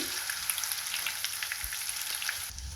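Potatoes fry in oil in a pan and are stirred, making a steady close sizzle with faint scraping clicks that lasts the whole time.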